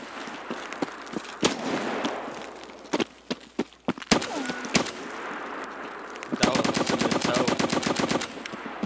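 Rapid gunfire in a video game, single cracking shots scattered through the first half, then a sustained fast automatic burst near the end, loud and close with a faint voice underneath.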